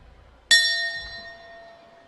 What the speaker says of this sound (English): that is the bell for the 5th round